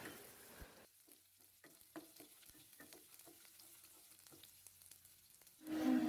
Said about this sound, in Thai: ตั้งกระทะใส่น้ำมันลงไปใส่กระเทียมสับลงไปเล็กน้อยครับแล้วก็ผัด ให้เหลืองหอมเลยครับ